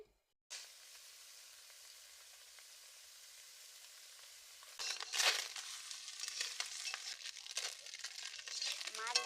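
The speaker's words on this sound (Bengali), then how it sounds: "মাখিয়ে নিচ্ছি নিয়ে কড়াইতে ভেজে নেবো এবারে" Oil sizzles steadily in a kadai, then flares into louder, crackling frying with bursts of spitting and hiss as spice-coated moyati fish go in.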